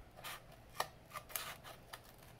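Scissors cutting a little way into material for a homemade spectroscope, a few soft, quiet snips and rubbing scrapes spaced irregularly, close up with faint background hiss.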